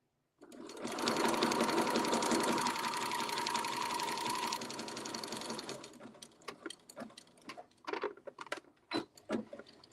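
A sewing machine back stitches quilt-as-you-go quilt pieces, a loud continuous close whir for several seconds, then scattered clicks and handling knocks.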